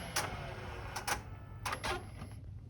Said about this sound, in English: This is printing at 8 inches a second, quite high fast, ideal for producing large quantities of labels at high speed